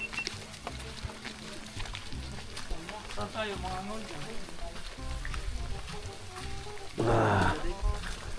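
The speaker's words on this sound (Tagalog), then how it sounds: "Problema, umuulan." Rain falls during an outdoor fishing trip, a continuous soft hiss across the whole stretch with people talking over it and a brief louder splash near the end.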